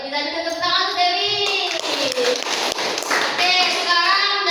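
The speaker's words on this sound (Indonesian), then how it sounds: "Ayo kita juga tepuk tangan untuk Dewi." Children in a classroom clapping for a classmate named Dewi, a brief burst of scattered hand claps mixed with young voices chattering and calling out over it.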